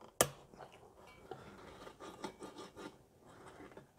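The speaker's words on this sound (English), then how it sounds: "I'm going to take the 3 screws out" Three screws being backed out of a Coleman 500 or 502 single-burner camp stove, heard as a sharp opening click followed by soft, intermittent metallic rasping and scraping, close and quiet, with no one talking.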